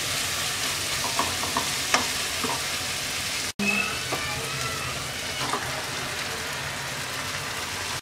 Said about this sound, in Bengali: তিন মিনিট পর এবার আমরা চিকেনটা দিয়ে দিচ্ছি।